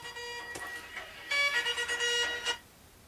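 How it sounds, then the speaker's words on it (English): A phone alarm rings out in short, bright electronic tone bursts, first a couple of quick blips and then a louder warbling run lasting about a second before stopping. "I have to set alarms on my phone."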